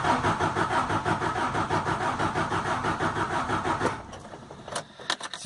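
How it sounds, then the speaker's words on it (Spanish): A car engine with a slow-starting problem cranks on the starter motor, producing a fast, rhythmic whirring churn for about four seconds. It then cuts off, leaving a few brief clicks and knocks in near silence. "al darle al start y está girando el motor, está girando rápido"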